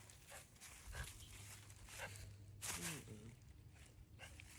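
A dog on a goat farm gives a few faint, scattered barks at a distance, mixed with quiet low background noise.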